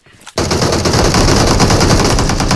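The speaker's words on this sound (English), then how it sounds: "Wait, who is shooting at you?" Sustained rapid automatic gunfire in the video game PUBG Mobile, loud, dense and continuous after a brief quiet lead-in.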